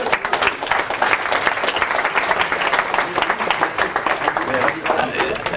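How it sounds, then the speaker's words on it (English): An audience at an agile meetup claps for participants after a cat-drawing activity, a busy burst of hand claps rising and then tapering, with some voices mixed under the clapping. "Give them a round of applause."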